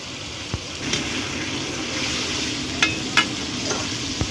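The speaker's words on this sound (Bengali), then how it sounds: "ফুলকপি আর গাজর ভাজা হয়ে গেছে, তুলে নিচ্ছি।" Cauliflower and carrot pieces fry in a pan of oil, giving a steady close sizzle with a few sharp utensil scrapes and taps over it, and no voices.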